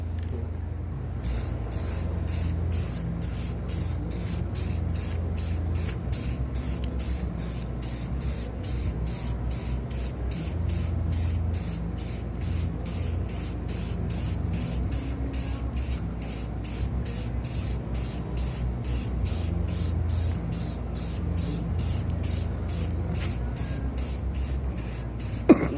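Spray paint hissing onto an open sign in a continuous close stream for nearly half a minute, pulsing rapidly and evenly throughout.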